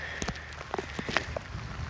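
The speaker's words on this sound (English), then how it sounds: "The rain's getting heavy." Heavy rain falls outdoors at night as a steady hiss, with scattered drops tapping on nearby surfaces, fairly faint and with no voices.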